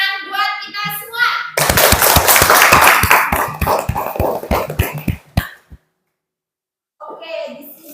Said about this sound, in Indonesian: Oke, beri tepuk tangan buat kita semua.